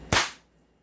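An M92 Beretta-style airsoft pistol fires one sharp, close snap through a chronograph, followed by a quick decay into quiet.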